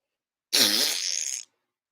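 A single fart noise made by mouth, a voice imitation lasting about a second, loud and close, with a buzzy, sputtering tone that trails off abruptly, surrounded by silence.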